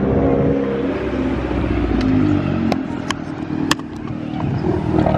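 Small turbocharged mini car shaped like a go-kart revving nearby, a steady loud engine drone with rising and falling pitch and a few sharp clattering ticks partway through.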